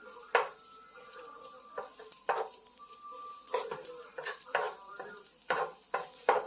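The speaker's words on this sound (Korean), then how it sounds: "그래서 마늘을 볶아줘요" Garlic sizzling in olive oil in a pan for seafood aglio olio, a quiet hiss broken by repeated sharp spatula scrapes and stirring taps at an uneven rhythm, close up.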